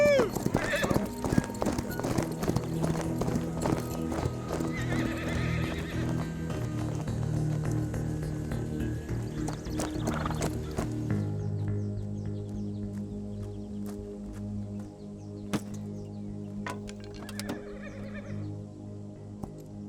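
A horse galloping with rapid rhythmic clip-clop hoofbeats and a neigh, loud and close at first, then the hoofbeats fade into the distance, with voices talking over it.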